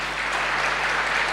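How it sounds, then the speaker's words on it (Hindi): An audience at a spiritual morning class breaks into dense, steady applause. Many hands clap together, loud and close, filling the short moment with no voices over it. "ताली तो बजाओ ना"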